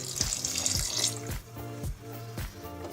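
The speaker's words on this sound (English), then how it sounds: "you just want to add your vinegar. I would put about 1/4 of a cup of vinegar." Vinegar poured into pork adobo cooking in a pot, a close, continuous splashing and gurgling stream of liquid lasting a few seconds with no talk.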